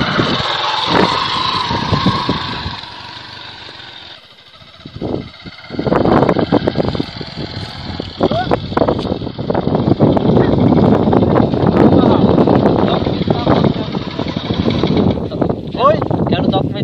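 A motorcycle that had trouble starting for lack of gasoline runs loudly close by, its engine droning steadily through most of the clip, with wind noise and voices talking over it.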